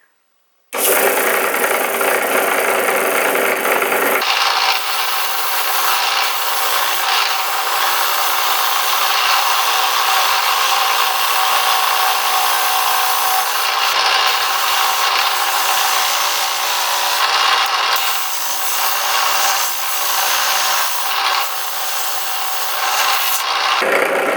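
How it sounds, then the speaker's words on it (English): Continuous abrasive rubbing of a power sander on a wooden swimbait fishing lure, loud and close, running steadily for over twenty seconds with a slight shift in tone early on. "Let's get to sanding it."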